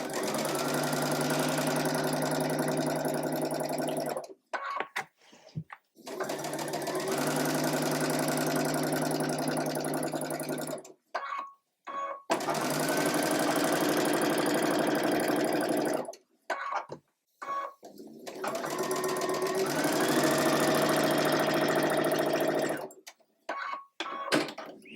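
Domestic sewing machine stitching the rows of a sampler quilt block together, running in four long, steady bursts with short quiet pauses between them, close and loud.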